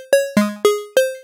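Four short, bright lead synth notes with a randomized, shifting character, each striking sharply then decaying quickly in an even rhythm, up close with nothing else playing.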